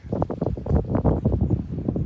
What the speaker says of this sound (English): It's a little bit windy. You may hear some of that on the mic picking it up